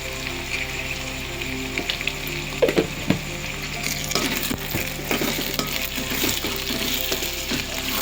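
Ginger garlic paste with turmeric sizzles steadily in a frying pan for an egg fry curry, while a spoon stirs and scrapes through it in intermittent clicks, up close with no talking.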